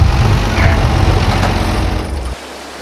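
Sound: tractor engine running

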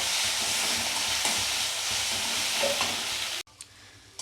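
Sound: garlic frying with spice paste for crab bhuna

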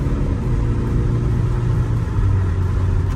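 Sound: car pulling away in sport mode

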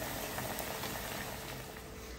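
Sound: churros frying in oil

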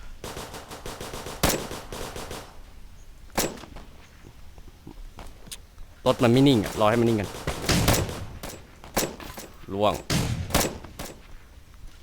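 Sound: sniper rifle gunfire in video game

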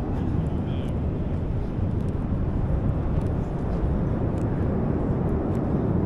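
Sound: airplane flying overhead

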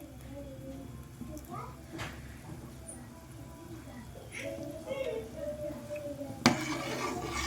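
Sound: stirring curdled milk (chhana) in a pot

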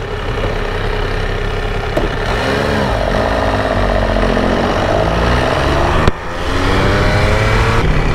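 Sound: MV Agusta F3 motorcycle engine revving as it rides off

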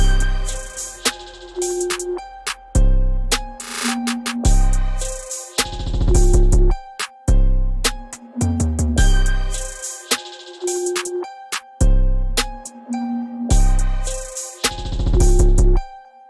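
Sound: trap beat with reverse bell sounds, simple drums and 808

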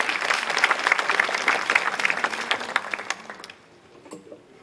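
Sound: audience applause for the students' book review

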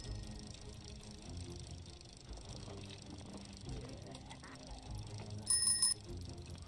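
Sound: bicycle bell horn in the video game Project Zomboid

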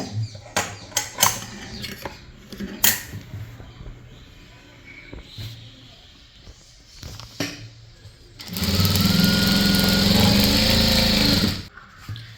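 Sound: sewing machine stitching a saree fall

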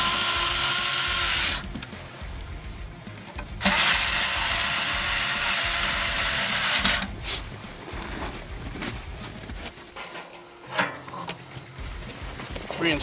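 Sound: ratchet retightening screws on LED headlight bezel

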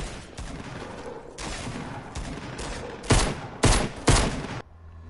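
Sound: gunfire, bullets being shot

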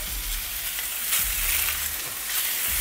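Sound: Parmesan-basil pork tenderloin searing in a hot pan

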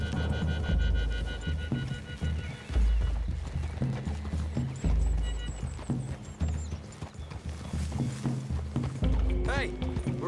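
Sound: horses walking in video game Red Dead Redemption 2

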